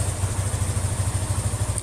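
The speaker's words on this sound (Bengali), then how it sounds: "একটু স্টার্ট দেন না ভাই বাইকটা" A used motorcycle engine idles with a steady, low, rhythmic putter close by, the beat holding even throughout the short stretch.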